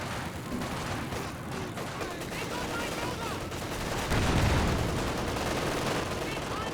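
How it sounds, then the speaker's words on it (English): A Katyusha rocket barrage rains down in the World War II strategy game Company of Heroes 2. Dense rumbling explosions and gunfire build and swell steadily under a commentator's voice. "Katyusha barrage running on in."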